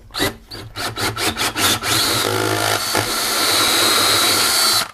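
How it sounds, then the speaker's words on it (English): A drill bores through a wall while mounting solar combiner boxes, first in several short rhythmic bursts, then in one long continuous grinding run, loud and close. "Okay, got to drill through the wall now."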